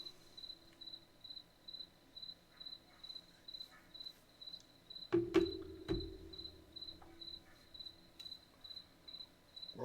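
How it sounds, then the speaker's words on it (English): Night ambience of chirping frogs in the fishing game Russian Fishing 4: a steady, rhythmic pulsing chorus that runs throughout, broken by a brief louder disturbance around the middle, with no talking. "the frogs are chirping"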